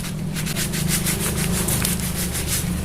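Sandpaper rubs back and forth in fast, even strokes, a loud, steady scratchy hiss heard up close with no pauses and no talk.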